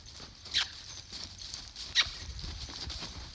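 A horse cantering under saddle in a riding arena lands two soft, separate hoofbeats, both faint against a quiet background.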